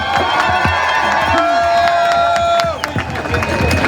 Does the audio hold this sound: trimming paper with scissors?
no